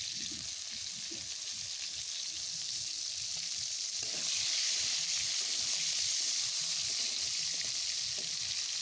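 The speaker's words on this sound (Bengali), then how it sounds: "টমেটোটা একটু ভেজে নেব" Tomato fries with whole cumin seeds in a pan, a bright continuous sizzle that grows louder halfway through, with faint stirring and scraping underneath and no talking.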